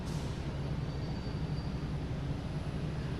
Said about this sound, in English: And right behind this one, we have American Airlines coming in from London Heathrow at 777.